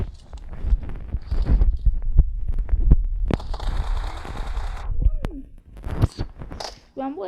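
UMP submachine gun fire in the mobile game PUBG Mobile, a few short sharp bursts and single shots mixed with footsteps and game effects while a player talks over them.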